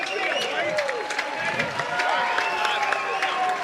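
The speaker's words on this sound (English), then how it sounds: "Crowd on their feet." A stadium crowd on its feet cheers and roars at a Princeton men's lacrosse tournament game against Towson, a steady dense wash of noise with a commentator talking over it.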